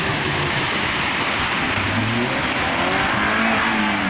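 An off-road vehicle engine revs and accelerates hard on a trail in Piedade de Ponte Nova, Minas Gerais, giving a loud, continuous close-up roar with rising pitch throughout.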